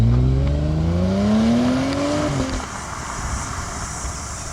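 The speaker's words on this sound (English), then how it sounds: "It is the petrol version with the V6 3-litre supercharged engine in it." A 2013 Audi SQ5 with a 3-litre supercharged V6 petrol engine driving, its engine note rising steadily under acceleration, then dropping to a quieter cruising hum with road and tyre noise.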